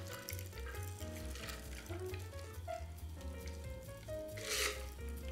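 A chilled cocktail is poured from a mixing tin through a Hawthorne strainer into a frozen coupe glass, making a soft steady liquid trickle over music.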